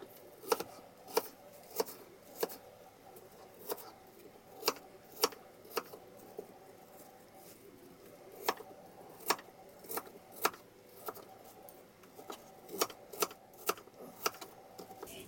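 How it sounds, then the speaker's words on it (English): A knife dicing peeled apple slices on a cutting board, producing sharp, quiet, evenly spaced taps about twice a second, close and dry over near-silent room tone. "Once you have your apple peeled and cut in slices, you want to dice it, and you want thin slices and small diced pieces."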